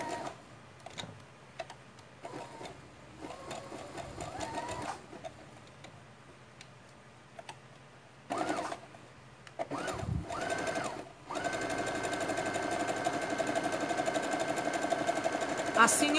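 A home sewing machine runs a zigzag stitch through layered tulle on a rag doll project, coming in short bursts between pauses and then a longer steady whir, with someone talking over parts of it.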